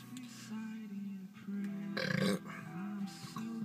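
A low, gurgling burp after sips of Sparks Blackberry 8% ABV malt drink, outdoors at night in a vehicle. It is a single rough belch of about half a second, close to the mic, over quiet background hum.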